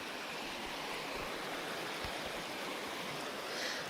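Prairie Creek flowing as a steady broadband wash of running water, close and continuous with faint low thumps, no talk.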